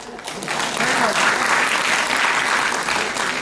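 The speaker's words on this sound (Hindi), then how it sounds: "ताली बजाओ।" Crowd applause at a municipal council event in Dungarpur, steady dense clapping from a large audience that swells after a brief start and holds loud and even throughout.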